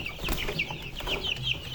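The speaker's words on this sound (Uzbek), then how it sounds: "Mana jo'jalar chiqishni boshladi" Newly hatched chicks and adult chickens give high, repeated peeps and soft clucks close by, a busy overlapping chorus that runs steadily throughout with no talking.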